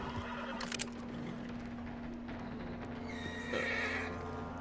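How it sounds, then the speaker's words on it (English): In Red Dead Redemption 2, a horse whinnies sharply and its hooves clop over a steady ambient hum, with a second, louder whinny near the end. "Acalmar aqui o cavalo"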